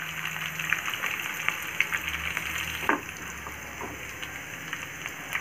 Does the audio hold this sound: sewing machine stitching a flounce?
no